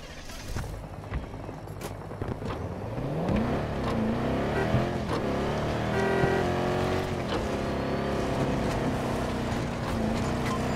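A vehicle in the video game Battlefield 2042 approaches, its engine rising in pitch and revving loudly with whining, shifting tones over a busy battle backdrop.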